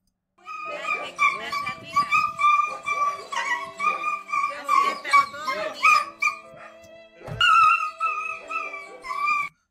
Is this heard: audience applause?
no